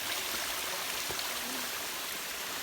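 Water rushes steadily over stacked rock layers at the Jim Yai waterfall in Phetchabun, a soft, even hiss that is fairly faint and continuous, with no voices.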